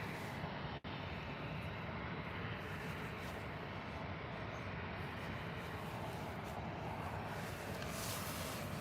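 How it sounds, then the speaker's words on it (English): A Jet2 Boeing 737 pushing back at Birmingham Airport, heard as a steady, muffled engine rumble and broad roar that holds even throughout, distant and without talk. "Jet2 737 pushing back."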